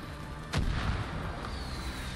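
A mortar strike explosion in the post-apocalyptic shooter Far Cry New Dawn, one sharp blast about half a second in with a rumbling tail. Background battle noise fills the rest.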